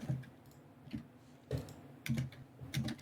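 Keys on a computer keyboard clacking in short bursts of typing, close by and fairly quiet, with pauses between the clusters of keystrokes and no voices.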